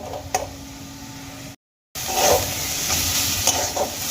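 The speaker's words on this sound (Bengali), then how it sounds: "এবার আমি দু থেকে তিন মিনিট খুব ভালো করে ভেজে নেবো" Spiced cauliflower paratha filling frying in a pan, a continuous close sizzle with occasional stirring scrapes, broken by a brief silent gap partway through.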